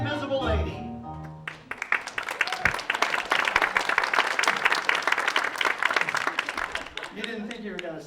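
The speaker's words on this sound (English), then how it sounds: "let's have a nice round of applause for the Invisible Lady." Audience applause at a magic show, a dense burst of clapping that swells after a brief spoken introduction and fades near the end as talk resumes.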